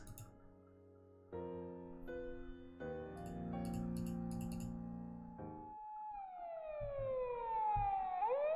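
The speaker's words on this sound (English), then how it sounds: "The sound of a loud blaring siren jolts me out of my thoughts." A loud electronic siren from the video game Doki Doki Literature Club: Blue Skies blares steadily, stepping up in pitch, then sweeps into a rising and falling wail.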